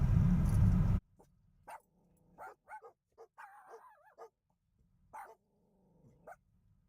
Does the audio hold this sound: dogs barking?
yes